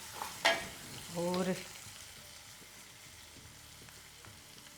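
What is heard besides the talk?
moong dal and fenugreek frying and being stirred in a pan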